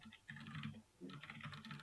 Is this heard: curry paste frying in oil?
no